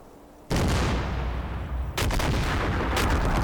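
Gunfire in the video game Combat Mission: Racing the Moon '82 erupts in sudden, loud, sustained bursts, with renewed volleys near the two-second and three-second marks.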